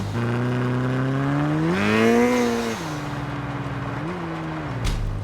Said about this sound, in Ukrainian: в мене тачка чуть-чуть газує